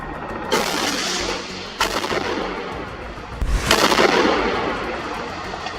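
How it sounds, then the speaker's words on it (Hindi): A bomb or rocket blasts onto an IDF tank standing in a narrow alley in Khan Yunis, Gaza. Several loud, booming explosions burst out over a constant roar of rumbling noise, with the heaviest blast arriving late. "जिस पर सामने से एक बम या रॉकेट आकर गिरता है, जिसमें जोरदार धमाका होता है।"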